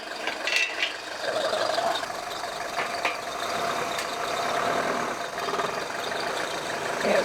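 A Mercedes W123 240D diesel car, about two tons, rumbles up onto ramps with a low engine drone and rattles, a few knocks and clunks from the ramps, heard from close by without talk.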